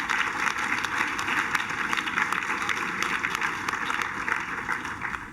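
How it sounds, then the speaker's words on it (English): A large audience at a university international student recognition ceremony claps for parents and supporters, a steady roar of applause lasting throughout. "So give your parents and supporters a round of applause"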